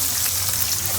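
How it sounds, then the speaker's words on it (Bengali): Bata fish sizzling as it fries in a pan, a dense, steady crackle of hot oil that holds loud and close for about a second with no voices. "ইলিশ আর এটা কি মাছ ভাজছো?"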